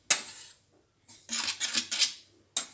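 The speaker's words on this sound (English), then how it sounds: "I'm using the whisk to make sure everything blends together." A whisk clatters against a bowl while blending hush puppy batter for fish hush puppies, in short bursts of scraping and clinking separated by pauses, close and fairly quiet.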